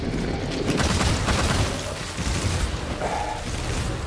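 Rapid gunfire from a weapon in the video game Immortal Unchained, a dense run of overlapping shots and booms that stays loud and steady throughout, mixed with game sound effects.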